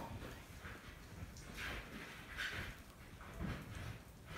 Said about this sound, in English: It sounds like footsteps.